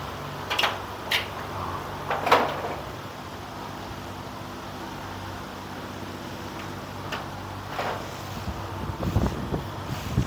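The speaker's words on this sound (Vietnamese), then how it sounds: "Gió nó đánh mấy cái tấm tôn này phát ra những cái âm thanh." Wind gusts striking corrugated metal roofing sheets on an abandoned house produce scattered rattles and bangs, a few sharp clatters over a soft windy hush, with a cluster of quicker knocks near the end.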